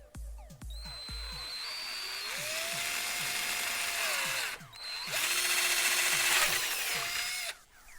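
A power drill whirs in bursts, starting and stopping several times, its motor pitch rising and falling as it bites into material; close and fairly loud.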